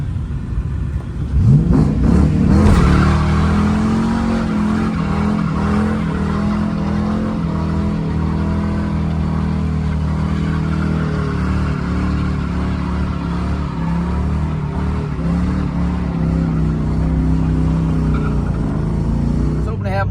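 A cheap Ford Mustang launches hard with a second-gear clutch dump, tires squealing briefly before the engine roars and pulls steadily, loud and close for about twenty seconds.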